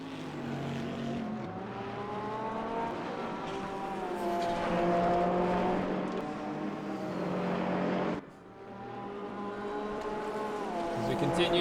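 BMW GT3 race car lapping the Mount Panorama circuit at Bathurst, its engine a steady loud drone with rising and falling gear tones, a brief dip near the end, under continuous race commentary.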